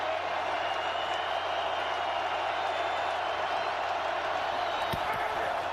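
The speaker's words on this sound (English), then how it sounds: "Rams offense dealing with a crowd noise" A stadium crowd roars at a Rams vs Seahawks NFL game in Seattle. The dense, loud wash of noise holds steady throughout, with a few sharp knocks near the end.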